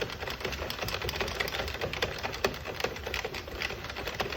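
An Addi knitting machine being hand-cranked to knit a hat, giving a steady run of quick mechanical clicks and clatter that carries on without a break at close range.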